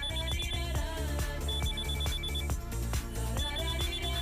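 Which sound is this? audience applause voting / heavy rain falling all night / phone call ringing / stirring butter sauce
phone call ringing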